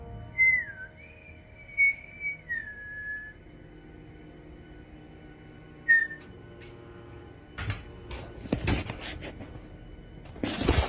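A person whistles a few rising and falling notes, then a short whistle follows after a pause, with thuds and knocks near the end.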